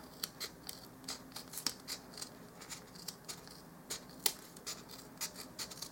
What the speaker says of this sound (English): I'm going to go through here and just cut my scissors just right level with the foam